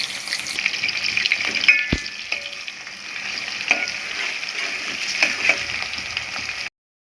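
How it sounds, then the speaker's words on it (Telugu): Onions, chana dal, mustard seeds, cumin and green chillies sizzle and crackle in hot oil, a close continuous fry with spatula scrapes and a sharp knock of stirring, ending abruptly. "ఆయిల్ అయ్యాక శనగపప్పు ఆవాలు జీలకర్ర వేసుకోవాలి పచ్చిమిర్చి పెట్టుకున్న ఆనియన్స్ వేసుకోవాలి"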